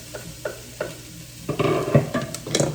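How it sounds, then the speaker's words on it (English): Sweet potatoes sizzle in a frying pan with olive oil while a utensil stirs and scrapes them, giving several soft clicks followed by a steady close crackle. "so our potatoes are cooking lovely"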